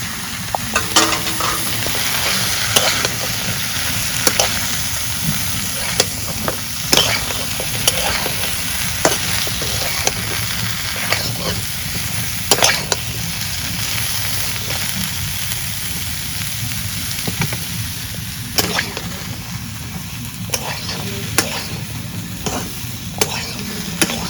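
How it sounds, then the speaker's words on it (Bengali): Tilapia fish frying lightly in oil in a pan over a traditional clay stove gives a continuous sizzle, broken by sharp, irregular clicks and scrapes from a utensil stirring the pan. "আমি কুইটা ধুয়ে নিছি, এখন হালকা করে ভেজে নিই।"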